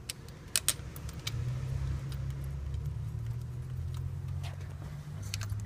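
A car engine idling with a vacuum leak that sets code P0171, a steady low rumble throughout with a few sharp clicks near the start and no talking.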